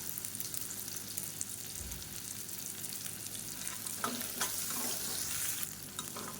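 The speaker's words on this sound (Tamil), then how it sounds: "இப்போ வெங்காயம் இஞ்சி பூண்டு எல்லாமே நல்லா வதங்கிடுச்சு" Small onions with ginger garlic paste fry in a pan for a Tamil kulambu, a soft steady sizzle with occasional stirring scrapes and clinks near the end, fairly quiet and with no talking.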